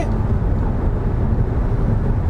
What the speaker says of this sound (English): have a bit of wind noise, but it's okay